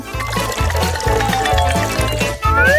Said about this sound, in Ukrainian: А ось у басейн треба залити воду.